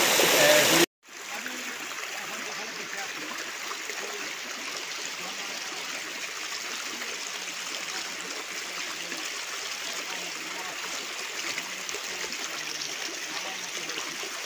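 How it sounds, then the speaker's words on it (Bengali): Water of the second waterfall at Napittachora in Mirsharai, Chittagong, tumbling down rocks toward the first fall: a steady, close, hissing rush of flowing water that continues unbroken after a brief opening burst. "ঝর্ণার পানি গড়িয়ে পড়ছে 1 নাম্বার"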